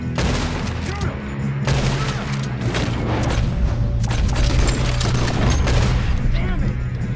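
Rapid gunfire from the Red Dead Redemption video game, dense overlapping shots and booms in a loud continuous barrage, with brief gaps and a steady low hum underneath.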